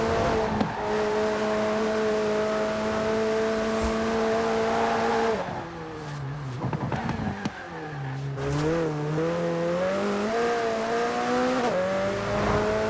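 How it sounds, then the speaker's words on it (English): A stock McLaren sports car engine in a video game hums steadily at high pitch, drops as it shifts down, then revs back up, loud and close, with no talking. "this McLaren definitely sounds good"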